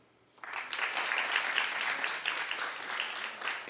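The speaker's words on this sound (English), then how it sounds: "Clap if he should." A studio audience on a daytime talk show breaks into dense, steady clapping that starts suddenly and holds at moderate loudness for several seconds, with no voices over it.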